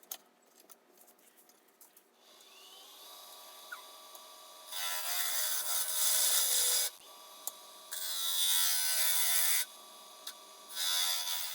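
A bowl gouge with a 40/40 grind cuts the sidewall of a Michigan sassafras winged bowl on a woodturning lathe, with three loud, sustained, rough shearing passes over a quieter lathe hum and occasional clicks.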